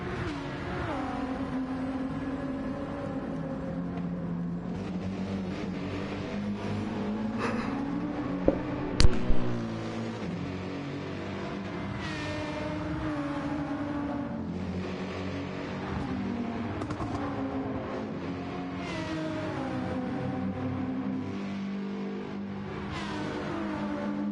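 An Aston Martin GT race car in a racing game, its engine droning and revving steadily with rising and falling pitch through gear changes over a long stretch, with a brief sharp knock partway through and no talking.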